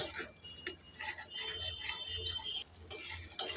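A spoon scrapes and clinks against a pan as tomato is stirred and fried into a Bengali-style fish curry, irregular close rasping strokes with brief metallic taps.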